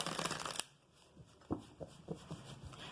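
Quiet shuffling of tarot cards close up, a quick riffle burst followed by several soft separate card slaps and slides.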